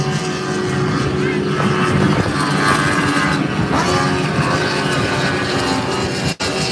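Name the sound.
racing powerboat with 175 horsepower Yamaha four-stroke engine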